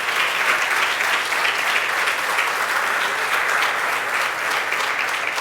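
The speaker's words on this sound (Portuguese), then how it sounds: "eu queria que você aplaudisse e glorificasse ao nome do Senhor" A church congregation claps loudly and continuously during a worship service, with a full, even wash of hands.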